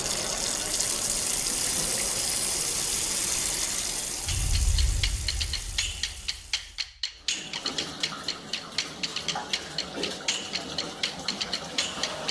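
Tap water running, a steady rushing gush that surges louder for a moment, briefly cuts out, then returns with irregular splashing spurts and gurgles.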